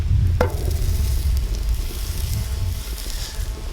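Burgers frying in oil on a camping stove, with a steady loud sizzle and one sharp clink near the start, while strong wind rumbles and buffets the microphone.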